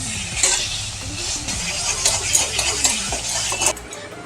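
A spatula scrapes and clinks against a pan while taro leaf greens are stirred dry over a high gas flame, steady close scraping with a soft sizzle underneath.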